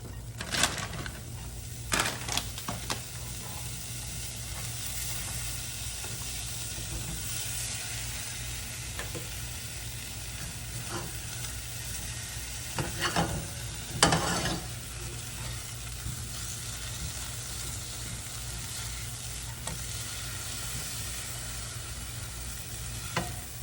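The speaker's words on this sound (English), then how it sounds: "let's put some more cheese on the pan." Cheese sizzles steadily on a hot pan while pancakes are made, a close, constant frying hiss with occasional scraping and tapping from a utensil.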